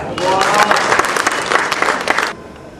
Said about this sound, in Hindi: अगली पंक्ति पर तालियों का महोत्सव हो